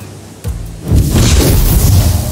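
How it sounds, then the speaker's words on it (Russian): A fire blast spell from the video game King Arthur: Knight's Tale opens with a soft thump, then swells into a loud, sustained roaring burst that fills the rest of the moment. "Ну давай вот этих огненным взрывом"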